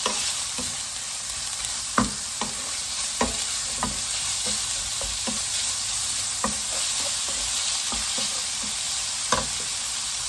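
Minced pork stir-fried in sesame oil in a pan, a continuous close sizzle broken by repeated sharp scrapes and knocks of the utensil against the pan, with no talking.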